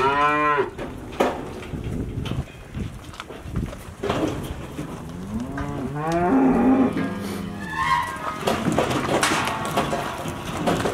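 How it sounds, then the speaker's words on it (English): Black cows and calves moo repeatedly, with several long, loud calls from nearby animals overlapping one another, the deep lowing coming and going without talk. "black cows and calves."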